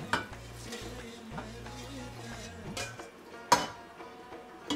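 Rice pulao being stirred in a pot after sugar syrup is added, for sweet Afghan naranj zarda pulao, with repeated scraping and stirring strokes, a few sharper utensil knocks against the metal pot, and no talking.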